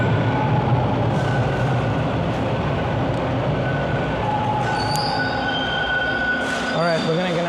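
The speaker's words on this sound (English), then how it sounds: "we're gonna get on this train and go all the way to the end" A Toronto TTC subway train rumbles steadily at close range on a late-night ride near Lansdowne, with high metallic wheel squeals rising and fading over the loud roar of the cars.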